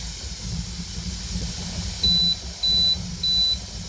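Three short electronic beeps at an even pace over a steady hiss of venting steam, from a Nesco electric pressure canner showing an E0 error code while canning.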